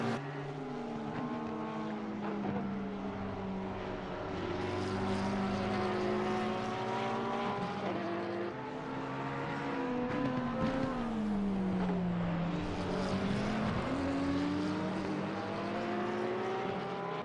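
A BMW M6 race car engine in a racing video game at the Hungaroring, revving loud and close. The pitch climbs and drops repeatedly through gear shifts, with sustained whine from other cars around it.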